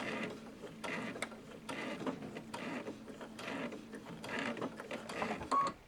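A Babylock Solaris 2 sewing machine stitches a short run and ties off, a quick mechanical rattle of needle strokes, fairly faint and close, ending in a brief higher whir.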